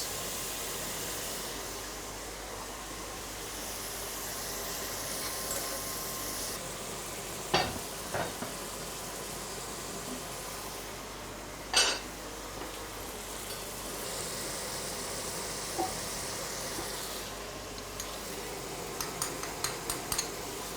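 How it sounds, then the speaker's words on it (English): Bacon fries in a pan with a steady, soft crackling sizzle, broken by a few sharp clinks of a utensil against the pan and some brief stirring. "Bacon is being fried nice and crispy."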